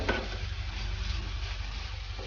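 Steamed wheat-flour modak filling is stirred and mixed in a pan, giving a close, continuous soft scraping and light sizzle with a few small clicks.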